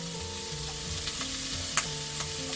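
Bell pepper and green chili stir-fried in a pan, a steady sizzle with occasional scrape and clink of a spatula stirring, close and moderately loud throughout with no voices.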